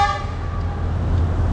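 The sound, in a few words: train horn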